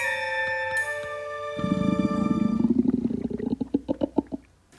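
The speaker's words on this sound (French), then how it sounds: "Entends-tu son ventre gargouiller?" A cartoon tiger's stomach growls in a long rumbling gurgle that pulses faster and faster before fading, following a fading bell-like ringing tone at the start.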